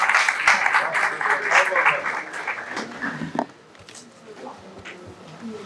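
An audience claps at a book launch ceremony, a dense burst of applause that swells and then thins out, with a voice speaking over the tail end.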